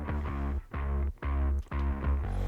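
Distorted bass guitar sitting in a studio mix, playing a gritty repeated line in sustained phrases with short gaps between them, loud and saturated.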